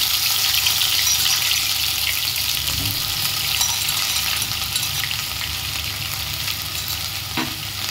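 Crushed green chili, ginger and garlic hit hot oil with cumin and bay leaf for chhole, giving a steady, close sizzle and frying hiss that holds evenly throughout with no talking.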